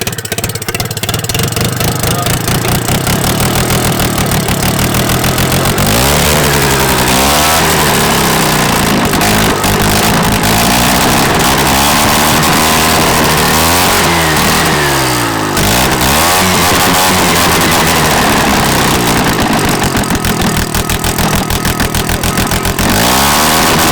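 A Sachs single-rotor P-port engine swapped into a track kart runs loud and close, holding a buzzing idle and then revving up and down in repeated surges, with voices barely audible beneath the engine.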